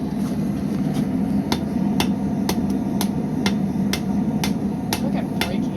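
Blacksmithing hammer strikes on metal at an anvil ring out as about a dozen sharp, evenly spaced clangs over a steady low hum, with no talking.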